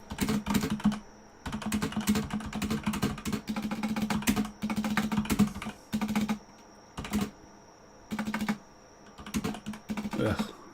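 Quick, uneven bursts of keystrokes on a computer keyboard while working in Roblox Studio, close and fairly loud, coming in clusters separated by short pauses with a low hum beneath.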